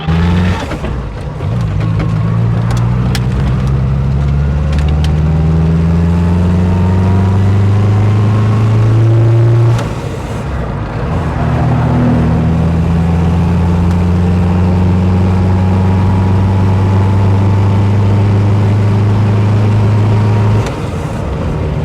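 A 1960s-style Austin Healey Sprite MK4 classic sports car pulls away loud and close. Its engine note climbs through two rising gear pulls with a short shift break between them, then holds a strong mid-pitched drone.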